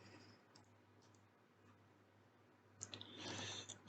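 A few soft, close computer mouse clicks, isolated and quiet against a low steady hum.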